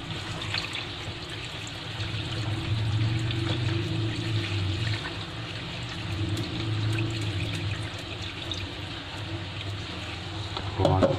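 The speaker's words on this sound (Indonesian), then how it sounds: "Kemudian buang airnya." Water from washing rice being poured off into a sink, a steady close rushing and splashing flow that runs unbroken for about eleven seconds.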